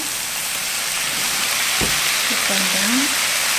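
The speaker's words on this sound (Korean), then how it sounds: "간장 넣고 한번 볶아주세요" Sweet potato stems stir-frying in a pan with soy sauce, a loud steady sizzle with occasional scraping as the stems are tossed.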